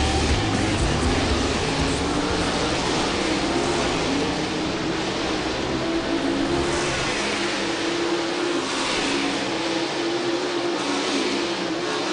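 A World of Outlaws sprint car engine roars continuously during hot laps at River Cities Speedway, a loud, steady, unbroken drone with rising and falling revs.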